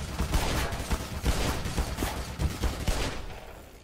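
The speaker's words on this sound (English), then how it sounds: "who's shooting at me?" Rapid bursts of automatic gunfire and overlapping shots from the Black Mesa shooter game, loud and dense throughout, with repeated volleys fading slightly toward the end.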